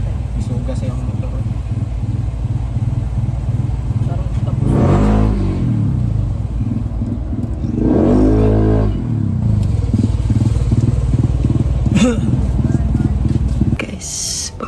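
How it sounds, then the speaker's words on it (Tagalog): A motorcycle engine runs steadily and loudly close by, swelling twice with revving bursts, with a person talking over it now and then on a road trip to Carcar. "Isuga sa yung motor."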